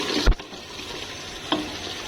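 Red chili paste frying with mutton in a pan for aloo gosht, a soft continuous sizzle with a couple of sharp stirring scrapes near the start and middle.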